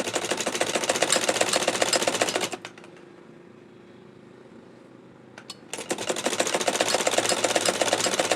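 Sewing machine stitching fabric for a baby frock, a loud rapid steady whir with fast needle chatter, stopping for about three seconds and then running again.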